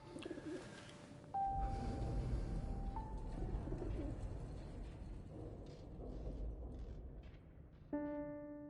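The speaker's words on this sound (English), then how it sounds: "He found a gravely injured bird, which he nurses back to health." An injured bird coos softly in the war game 11-11 Memories Retold, with low repeated coos over a steady ambient rumble and a few tonal music notes.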